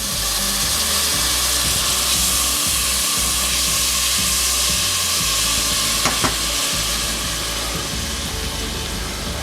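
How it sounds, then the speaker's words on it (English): Garlic and onion fry in a pan for a chicken stew, giving a loud, continuous close sizzle with occasional stirring scrapes and no voices. "we're going to fry those up just until the onion starts to get a little bit translucent"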